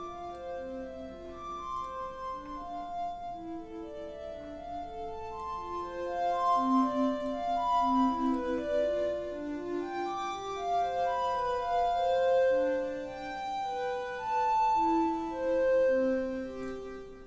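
Synthesizer arpeggiator cycling in triplet eighth notes, steady bright tones rising and falling in a rapid repeating pattern, moderately loud and continuous with no talking.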